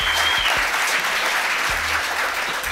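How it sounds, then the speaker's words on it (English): A live audience at a romantic matchmaking show claps steadily for a short stretch, a dense, even wash of applause with no speech over it. "Let's clap for her, ladies and gentlemen."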